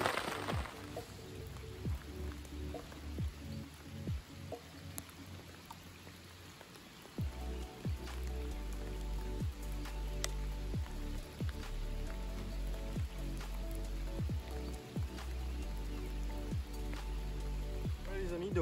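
A rain shower over a public lake during a carp fishing session, steady patter of raindrops on surfaces with louder individual drips, thickening after about seven seconds, close and continuous.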